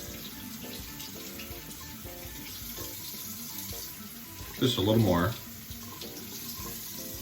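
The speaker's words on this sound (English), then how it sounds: "I'm just running some warm water here." Warm water runs steadily from a tap into a sink during a wet shave, a continuous close splashing hiss with a louder gush midway, while someone talks briefly over it.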